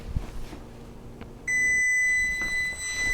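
A kitchen timer being set for a casserole gives a few short beeps, then a steady high electronic tone sounds for the rest of the clip, close and clear in a quiet kitchen.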